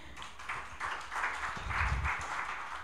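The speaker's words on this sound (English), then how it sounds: "let's clap for him" Audience clapping for a guest speaker at a Catholic sisters' communications network launch in a Nairobi hotel hall; steady, moderate applause from a crowd for about three seconds, with a faint low thump or voice underneath.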